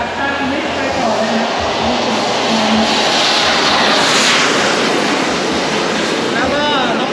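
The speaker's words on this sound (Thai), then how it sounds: "เดี๋ยวเราจะเห็นเครื่องบินเจ็ตขึ้นทีละ 3-4 ลำลองดูนะครับว่าเครื่องบินเจ็ตขึ้นเป็นฝูงเนี่ยเป็นยังไงบ้าง" Radio-controlled model jet planes take off in a group at an RC airfield at Khlong 11, a loud, steady turbine roar that swells and rises in pitch, with someone talking over it.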